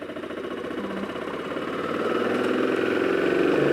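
A 2001 Ducati 750SS Super Sport motorcycle engine runs in first gear with a steady, throbbing mid-pitched drone that grows gradually louder, heard close up with no talking.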